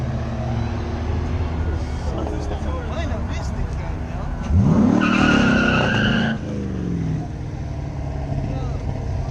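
A car spins its street tires at a Mexico street car meet, a loud squealing screech rising over a droning engine and crowd chatter, with voices talking nearby.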